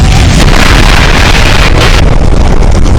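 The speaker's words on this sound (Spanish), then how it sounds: "Una enorme explosión sacudió el Forrestal" A huge explosion aboard the aircraft carrier Forrestal during a deck fire, heard as a saturated, continuous roaring blast that fills the whole range, extremely loud and distorted throughout.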